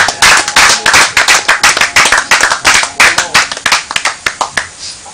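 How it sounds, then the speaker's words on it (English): An audience gives a round of applause for a performer, loud, close clapping in dense rapid bursts that thin out into separate claps toward the end. "please, a round of applause"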